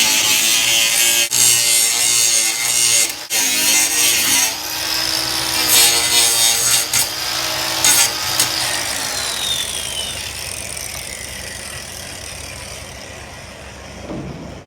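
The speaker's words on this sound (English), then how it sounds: "clean up a weld real quick, it's perfect. I absolutely love the cordless grinder. And on top of that, it's the new Hitachi brushless grinder." A cordless Hitachi brushless angle grinder cleans up a weld on a lifted Subaru Legacy. It gives a steady, loud grinding whine, with a pitch that slides down as the disc spins down near the end.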